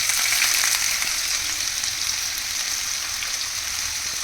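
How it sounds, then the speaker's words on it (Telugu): Thinly sliced onions fry in hot ghee for a Malabar Thalassery chicken biryani, giving a steady, dense, close sizzle that holds level throughout with no talking. "ఈ ఆనియన్స్ గోల్డెన్ బ్రౌన్ కలర్ వరకు ఫ్రై చేసుకోవాలి"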